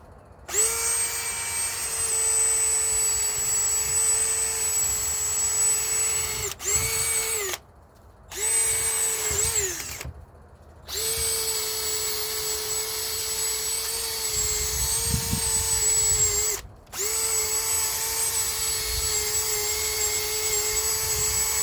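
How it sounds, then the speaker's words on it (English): A power drill whines at a steady high pitch, running for long stretches with a few brief stops and restarts, close and loud. "There's the drill."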